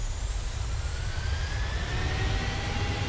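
Jet engines of a Boeing 737-700 at takeoff power in Microsoft Flight Simulator 2020, a loud, steady low roar with a rising high whine running throughout, with no talk.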